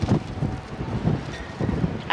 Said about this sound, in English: It's so windy, it's like a tornado out here.